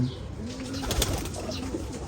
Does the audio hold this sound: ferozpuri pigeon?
yes